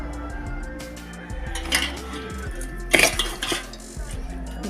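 A metal spoon mixes oil and spices into mutton dum biryani in a pot, making irregular clinks and scrapes against the vessel, with a loud clattering cluster near the middle over a low, steady hum.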